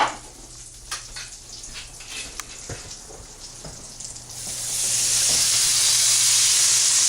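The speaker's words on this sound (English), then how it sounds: "So now we're gonna deglaze the pan, meaning add wine, and then we're gonna make our sauce." Wine poured into a hot pan after frying veal makes a sudden loud, steady steam-and-sizzle hiss that holds to the end. Before it come a few quiet clinks and rustles.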